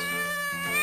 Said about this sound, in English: see there a cat